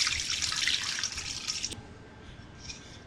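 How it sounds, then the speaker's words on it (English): Water poured over toasted chilies in a bowl, a steady bright splashing stream for about a second and a half, then stopping into quieter trickles and drips. "So the chilies go into a bowl, and then we're going to pour some water on top."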